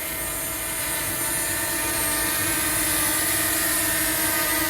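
A DJI Mini 2 SE drone flies close by above a construction site, its steady high-pitched propeller whine loud and continuous, swelling slightly as it draws nearer, with no talking.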